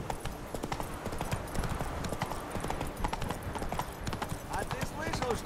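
Hooves of the horse Roach trot steadily in The Witcher 3, a brisk, even clip-clop close up beneath voices talking.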